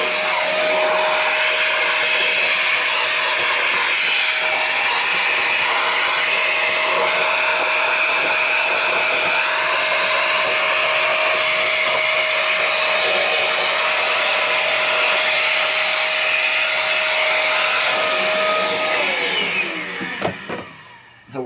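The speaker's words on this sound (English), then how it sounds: "I got junk on here I gotta vacuum off" A vacuum cleaner pulls junk off the playfield of a 1967 Williams Blast Off pinball machine, a loud, steady whine and rush with a fixed tone that runs unbroken for about twenty seconds, then cuts off.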